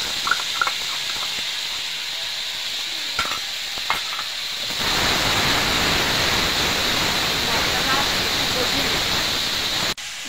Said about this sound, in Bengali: তেলটা গরম হয়ে গেছে, আমি আদা, জিরে, আর ধনে, আর শুকনো লঙ্কা বাটা দিয়ে দেব।